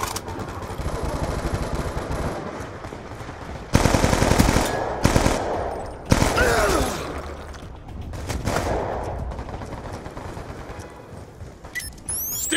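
Gunfire in the video game Call of Duty: Black Ops 2 during a custom hardpoint match, with rapid machine-gun bursts and loud sharp shots over a busy mechanical background.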